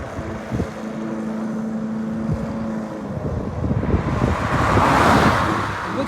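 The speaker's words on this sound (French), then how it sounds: "Il y a une Porsche cabriolet qui arrive" A grey Porsche Boxster S convertible approaches and passes, its engine and tyre roar swelling from a steady drone to a broad, loud rush near the end, with wind buffeting the microphone.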